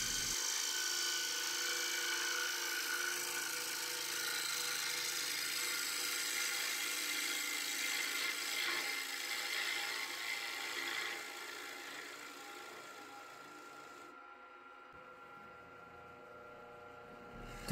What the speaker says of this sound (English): then a little scraping.